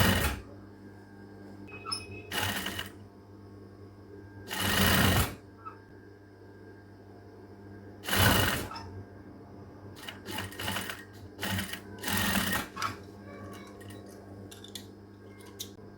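A sewing machine stitches a women's shirt sleeve in short, separate bursts of rapid whirring needle action, with quiet pauses and faint handling noise between runs.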